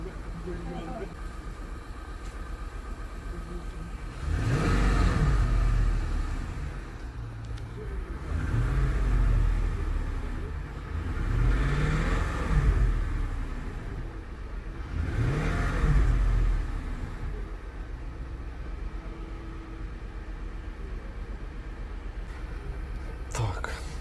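An Infiniti QX56/QX80 Y62 V8 engine revs during warm-up, with four separate throttle blips roughly every four seconds, each swelling and falling back to idle, while someone speaks quietly in between.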